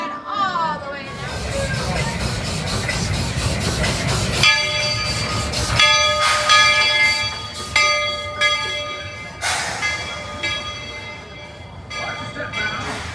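A Magic Kingdom ride train rumbles along a track into Frontierland Station with steady low noise, while bells chime and a loud announcement voice plays over it.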